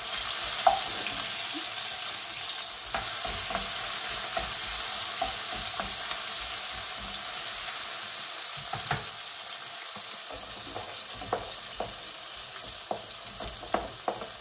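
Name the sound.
tomatoes and vegetables being stirred in a pan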